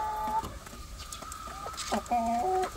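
Rhode Island Red chickens cluck close by in short, overlapping calls and brief squawks, with a few quieter background sounds mixed in.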